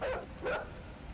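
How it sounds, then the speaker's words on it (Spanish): A dog in the video game Inside gives two sharp, close yelping barks in quick succession, then goes quiet. "¡Un perro!"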